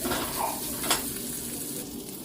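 Dried fish stir-fries in a pan with green chili, giving a faint, steady sizzle with a brief scrape of stirring partway through.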